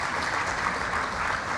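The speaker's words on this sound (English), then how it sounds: "So I think that deserves applause." A conference audience claps in a brief, even round of applause, continuous and moderately distant with no talk over it.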